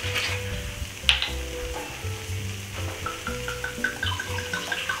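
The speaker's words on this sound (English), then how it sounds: "We're going to pour this over the arborio rice so it gets all absorbed into the rice." Pinot Grigio dry white wine is poured into a hot pan of toasting arborio rice, setting off a steady, fairly quiet sizzle and bubbling with light stirring clatter and a sharp clink near the start.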